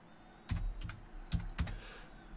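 Typing on a computer keyboard, a few close, distinct keystrokes in short irregular bursts over a quiet background.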